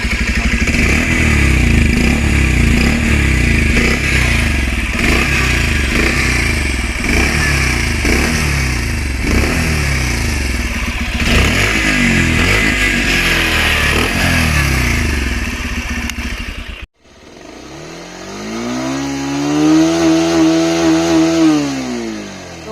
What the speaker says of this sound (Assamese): সাউন্ড আগৰখনতকৈ বহুতেই স্মুথ ইঞ্জিনৰ সাউন্ডটো শুনক